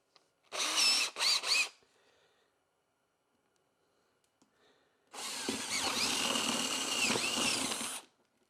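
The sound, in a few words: power drill with 11/16 bit drilling beehive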